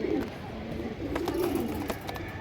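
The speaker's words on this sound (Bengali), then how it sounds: "খুব সুন্দর একটা কবুতর" Racing pigeons, high-flying Giribaz and Pakistani Teddy birds, cooing close by in soft repeated low throaty phrases, with faint background noise and a little talk.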